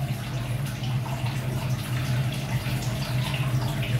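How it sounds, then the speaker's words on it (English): A Pro Combi 85HE boiler runs in hot water mode, giving a steady low hum with a watery rush of flow throughout, constant and fairly close. "I'm running hot water mode at the moment."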